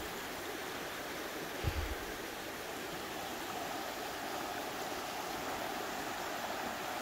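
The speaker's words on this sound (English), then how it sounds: "river running beside the place" A small river flows beside an old mill in Cades Cove, a steady, even rush of water filling the whole stretch with no voices.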